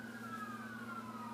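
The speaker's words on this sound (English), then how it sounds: "of course you guys know that I cannot do a video without having sirens" Emergency-vehicle siren wailing outside, a steady drawn-out tone sliding gradually downward as it passes, with a low steady hum underneath and no talking.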